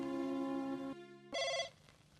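A telephone rings loudly with a tonal electronic bell, a short pause, then another ring tone burst that fades out.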